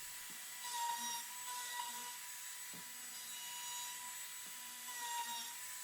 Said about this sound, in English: Now I've got an 1/8 inch roundover bit on here, and I'm going to do all the edges just to clean up the look a bit.